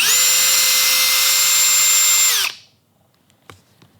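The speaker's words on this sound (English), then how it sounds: "Tighten your chuck up," A power drill runs steadily in reverse, backing out a stripped screw, its loud high motor whine holding for about two and a half seconds before cutting off, followed by a few faint clicks and handling knocks.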